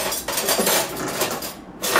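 A tablespoon scooping beef and steak seasoning into a crock pot of oxtails, close metallic scraping and clinking of spoon against dish in quick succession.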